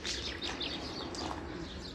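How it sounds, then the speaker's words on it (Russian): Small birds chirp and tweet outdoors on a warm day near a chicken yard, their calls light and fairly close, scattered over a steady background hum. "Вы слышно, как птички поют?"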